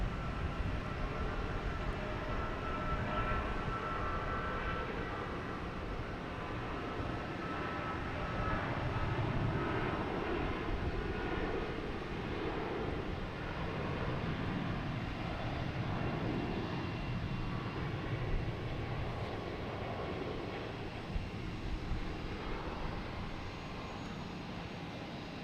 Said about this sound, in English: this American Airlines takes off to London Heathrow